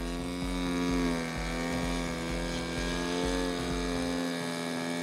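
A radio-controlled model airplane engine holds a loud, steady, high-pitched drone during a torque roll, sounding close and continuous with slight wavering in pitch.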